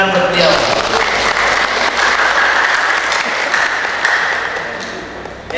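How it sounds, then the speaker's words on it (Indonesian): Audience at a seminar on preventing digital fraud and crime applauding loudly and steadily for several seconds, with a voice over a microphone heard above the clapping at the start. "Bapak Nasirkan, tepuk tangan buat beliau."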